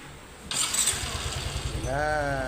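A Yamaha Mio i125 scooter engine starts up after valve adjustment and CVT parts replacement, cranking then catching into a steady, close, pulsing idle that runs on alone.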